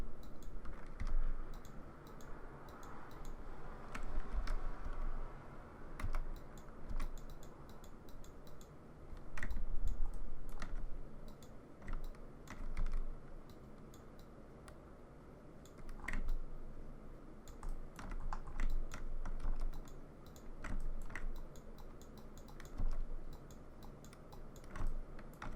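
Computer mouse and keyboard clicks and typing come in irregular bursts during 3D texturing work in Quixel, close and fairly quiet, with no talk.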